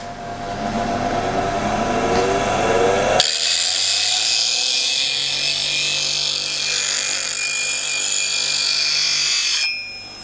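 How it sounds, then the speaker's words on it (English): A bench grinder hones a woodturning tool, a steady high grinding whine with a bright hiss that holds for about ten seconds and cuts off at the end, close and loud with no talk. "if you think that, just go straight to the grinder"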